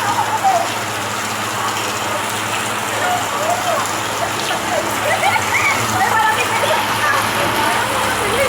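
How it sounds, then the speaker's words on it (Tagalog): Steady rain falls on a morning, making a continuous hiss and patter nearby, with chirping sounds and occasional voices over it. "Maulan na naman."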